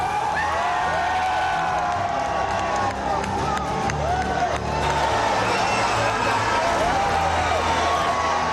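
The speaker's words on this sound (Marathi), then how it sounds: "आज मुंबईतल्या शिवाजी पार्कवर ठाकरे बंधू यांनी विद्यार्थ्यांसोबत विजयी जल्लोष केला" A large crowd of students and young people cheering at a victory celebration at Shivaji Park in Mumbai, with loud, continuous crowd roar and shouting and rising whistle-like cries over the top.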